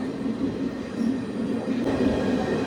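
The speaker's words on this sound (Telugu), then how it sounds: "మన ట్రైన్ అయితే ద్వారపూడి నుంచి కూడా తీసాడు" Steady low rumble and rattle of a moving passenger train carriage between Dwarapudi and Rajahmundry, continuous and fairly loud, with no talking.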